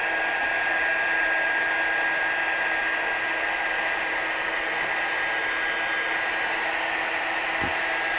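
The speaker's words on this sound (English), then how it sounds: "It's truly fabulous watching heat embossing do its magic." A heat tool blows steadily to melt embossing powder on a Christmas stamped card, a continuous airy whoosh held close and loud throughout with no talking.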